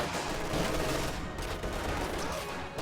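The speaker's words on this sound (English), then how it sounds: "Enemy fire!" Sustained enemy gunfire in a video game, a dense continuous rattle of rapid shots close and loud throughout, with no gaps.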